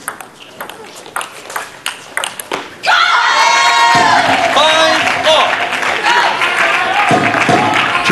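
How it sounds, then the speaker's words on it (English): At a SEA Games women's team table tennis final between Singapore and Thailand, a few ball pings and bounces give way to a loud burst of cheering and clapping from both teams. The crowd noise holds for several seconds, with voices mixed in. "greeted with cheers and clapping from both teams"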